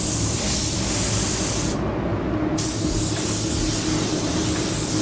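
A spray gun hisses steadily at about 22 psi with full fan and full fluid, laying down a pearl white waterborne base coat, loud and continuous with a brief break in the middle.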